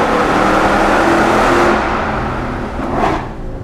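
A Chevrolet Corvette C8 Z06 revs loudly nearby, its exhaust roaring in a sustained blare that eases off and then surges again in a short second rev before fading.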